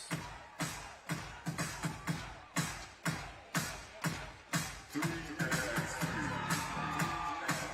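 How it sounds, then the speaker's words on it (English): A basketball crowd at a FIBA 3x3 World Tour event in Abu Dhabi bangs clappers in sharp rhythmic bursts, roughly two per second, building into sustained cheering and whooping in the last few seconds. "They got the clappers making a bunch of noise."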